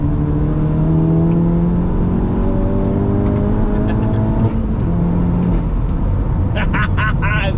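Car fitted with a hybrid IS38 turbo, rated at 585 bhp, accelerating hard with a steady engine drone and rising turbo whine inside the cabin, as someone talks over it throughout.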